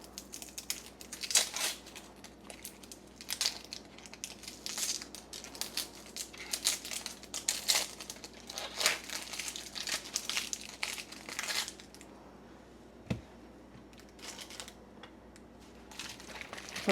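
An onion is peeled by hand, with its dry papery skin crinkling and crackling in rapid, uneven bursts up close for most of the stretch, then quieter toward the end.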